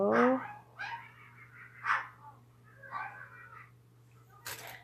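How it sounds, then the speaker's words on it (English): A small chihuahua lets out a run of short, sharp yips and growly barks about a second apart, close by, with a steady low hum underneath. "my dog is growling and barking, and he's kind of a jerk. I have a little chihuahua."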